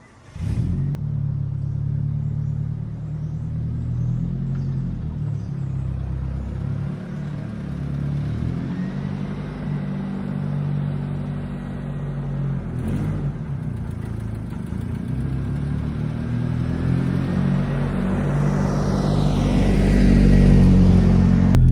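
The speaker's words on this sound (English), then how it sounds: "I am going to take his truck for a ride" A truck engine rumbles steadily throughout, driving with a low droning roar that builds and grows louder toward the end as it revs, heard up close with no talking.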